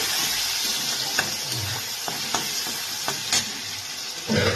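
Tomato paste cooks with salt and turmeric in a pan, giving a steady close sizzle broken by occasional sharp clicks and scrapes of stirring.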